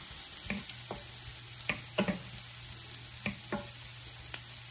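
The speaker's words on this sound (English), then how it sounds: "we're going to drop our sausage in now. Let this continue to cook." Sausage cooking in a pan for a breakfast casserole, a steady low sizzle broken by several sharp clicks and scrapes of a utensil against the pan, with no talking.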